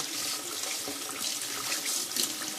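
Running tap water pours steadily over bleached hair wefts being rinsed under a faucet, a continuous close splashing hiss with no talk.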